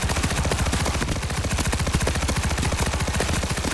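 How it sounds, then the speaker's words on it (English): Rapid sustained machine-gun fire in the zombie shooter World War Z, a dense unbroken stream of loud shots with even rhythm across the whole stretch, no speech. "Machine gun set!"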